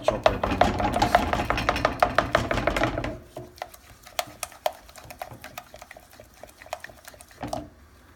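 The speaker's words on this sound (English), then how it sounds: "Just chop that down" Rapid knife chopping on a board while making pastitsio, a dense run of sharp close chops for about three seconds, then slower, scattered single taps and knocks trailing off.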